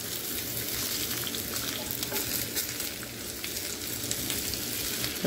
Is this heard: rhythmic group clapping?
no